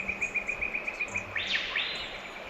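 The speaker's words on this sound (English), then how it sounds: "The bird sounds are crazy." Birds calling beside an Australian lake on the first cold front of the year, a rapid series of bright repeated chirps close by, followed by a rising sweeping whistle, with a faint insect hum beneath.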